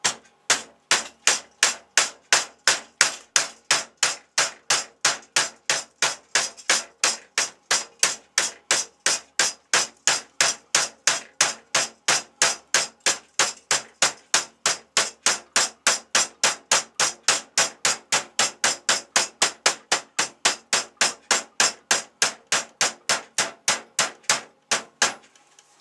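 Steady, rapid hammer blows ring out on a flat sheet of steel clamped with two clamps, bending it along a marked line; dozens of loud, evenly spaced strikes run throughout with no talking.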